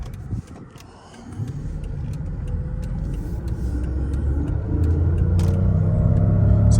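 A Mercedes CL600 V12 accelerates under full throttle with a steady, low rumbling drone that builds in loudness over several seconds, heard from inside the car.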